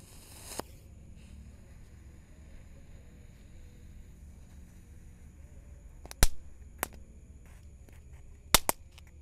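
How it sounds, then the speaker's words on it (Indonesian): Tank-shaped wheeled firecracker set off on uneven ground at night, giving a few sharp, distinct cracks spaced several seconds apart, then one louder double pop near the end, over faint background hiss. "Selanjutnya kita nyalakan mercon tank, guys"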